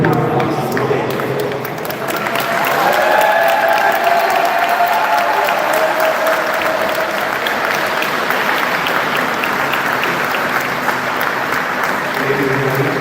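A crowd at a college sports event applauds and cheers a player introduction, loud, sustained clapping and whoops that swell after the first couple of seconds and carry on steadily.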